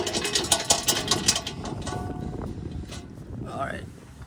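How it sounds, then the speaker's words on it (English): A ratchet clicks in quick, steady succession as a bolt is loosened on a Mitsubishi Evo X exhaust during an Invidia Q300 swap. The clicking comes up close, then fades into a quieter, hollow background. "Let me just take this bolt off."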